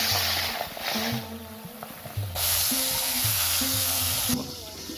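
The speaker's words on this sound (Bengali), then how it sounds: "তেল গরম হয়ে গেছে, আমি এবার মাছের মাথাটা ভেজে নেব।" A salted, turmeric-rubbed fish head fries in hot oil in a wok, making a steady crackling sizzle that swells louder in bursts over a background of low, tonal sounds.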